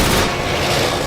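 A rocket launcher blast in a first-person shooter set in a St. Petersburg station, a short, dense burst of explosive noise close to the player.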